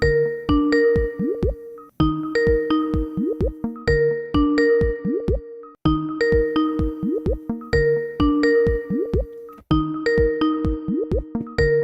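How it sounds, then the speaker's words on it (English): A repeating Skype call ringtone of chiming tones and descending blips, cycling about every two seconds, loud and clear with no voices. "Otherwise, the Skype will not ring."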